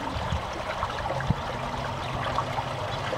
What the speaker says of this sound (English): I just love the sound of water running.